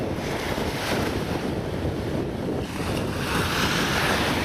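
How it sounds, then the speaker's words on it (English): Strong wind buffets the microphone on the coast at Port Lincoln, a loud, continuous roar with surf-like rushing that swells and eases but never drops out. "but it's a little bit cool and a little bit inclement. Got a bit of wind coming."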